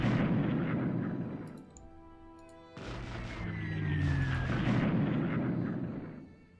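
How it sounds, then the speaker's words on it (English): Naval bombing in the WarPlan strategy game, heavy rumbling explosions rolling on continuously with a brief tonal lull midway, then swelling again before fading out. "So now let's go ahead and do some naval bombing."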